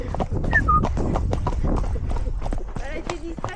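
Horse hooves clip-clop in a quick gallop rhythm during a touristic ride, close and steady, with people talking over the hoofbeats throughout.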